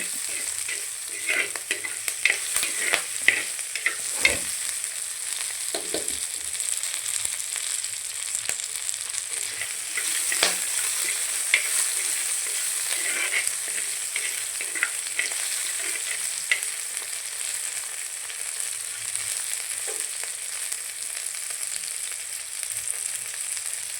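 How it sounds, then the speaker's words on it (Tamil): Onions sautéing in a pan give a steady, close sizzle and fry hiss with occasional stirring scrapes throughout, no voices. "நல்லா வெங்காயம் வணங்கட்டும், வதக்கி விட்டுட்டுருக்குறோம்."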